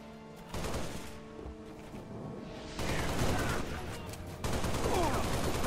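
A gold gun firing in the video game Cursed Halo Reach: rapid bursts of gunfire that come in loud stretches separated by brief lulls, with dense game noise throughout and no voices.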